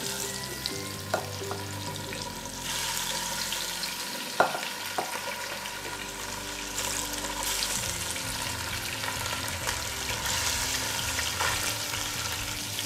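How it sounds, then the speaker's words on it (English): Pieces of fish fry in hot oil, giving a continuous, fairly soft sizzle with a few sharp clinks from a utensil against the pan, and no voices. "to fry our fish in this oil"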